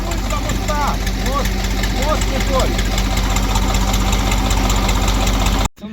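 A new Xingtai mini tractor engine idles with a steady, rapid chugging rumble, loud and close, with some rattling and shaking, then cuts out abruptly near the end.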